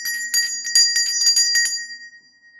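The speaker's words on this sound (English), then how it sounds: "Before we enter, we always ring the bell." A ritual bell rung before a session with the gods gives a run of bright, close metallic strikes with sustained ringing tones that fade out alone over the last second.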